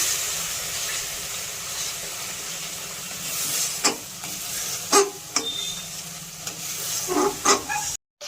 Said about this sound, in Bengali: গ্রেভিতে দিয়ে দেবো স্বাদ মতো লবণ দিয়ে ভালো করে মিশিয়ে দেবো।